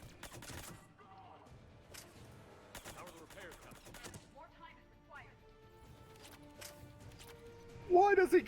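Game gunfire in Mass Effect 3 Remastered, scattered sharp shots and short bursts through the clip with a louder cluster near the end, mixed under ongoing speech.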